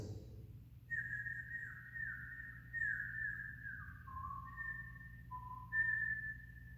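A soft, breathy flute plays a slow melody of sustained, gliding notes alone against a faint low hum.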